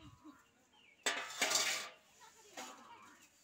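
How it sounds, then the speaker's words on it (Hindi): Dishes and metal utensils being scrubbed and washed by hand, a few brief clattering, scraping clinks in quick succession, fairly faint, with quiet surroundings. "अच्छा बर्तन मांजा फटाफट से"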